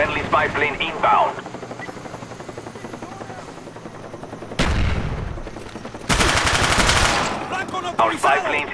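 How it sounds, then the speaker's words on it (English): Game audio from Call of Duty Black Ops: a low engine drone of a spy plane passing overhead runs beneath bursts of automatic gunfire and a radio-style voice announcement, with loud rapid firing near the end. "Friendly spy plane inbound."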